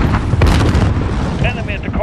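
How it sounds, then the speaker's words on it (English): A grenade explodes in Call of Duty Modern Warfare multiplayer, a loud, heavy low boom that rumbles on. A voice and gunfire are mixed in with it. "Grenade out!"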